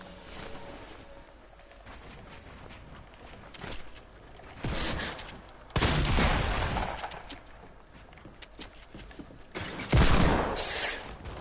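Gunfire in the video game Fortnite: three loud bursts of shots, the last the strongest, separated by stretches of quieter game ambience.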